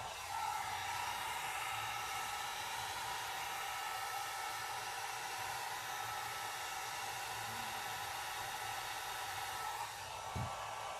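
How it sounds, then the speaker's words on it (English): A hair dryer runs steadily to dry alcohol ink, a loud, even blowing whoosh that holds without pause, with a small bump near the end. "I'm going to leave my dryer running while I add the other colors"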